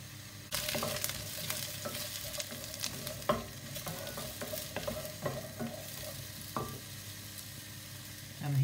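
Courgettes drop into a hot pan with prawns, bursting into loud close sizzling, then frying steadily with repeated stirring scrapes and clacks against the pan.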